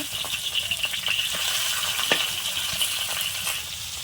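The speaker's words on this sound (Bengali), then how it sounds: "মাছটা এক পিঠ ভাজা হয়ে গেছে, লৌটে দেবো।" Fish fries in hot oil in a pan with a steady, close sizzle and occasional light clinks and stirring ticks.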